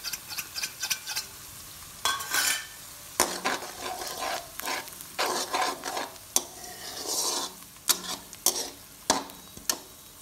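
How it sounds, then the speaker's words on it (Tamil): Two salted, beaten eggs are stirred into browned fried onions in a pan for a spicy bread fry. A spoon scrapes against the pan in repeated, uneven strokes over a faint sizzle, close and fairly loud, with no speech. "இந்த முட்டையை போட்டு கிண்டிப்போம்"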